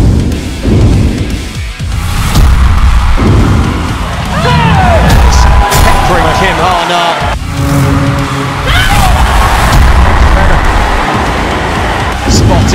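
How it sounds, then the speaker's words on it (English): A crowd at a mixed doubles badminton match erupts in loud, sustained cheering and whooping that swells and holds over several seconds, with a commentator's voice running over it. "just listen to that crowd erupt"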